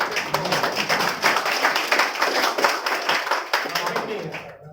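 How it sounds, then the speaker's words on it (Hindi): A seated audience at a business seminar in Jamshedpur claps together, a fast, even run of hand claps that keeps up for several seconds before cutting off abruptly. "बहुत सर के लिए एक बार ताली तो बजाइए"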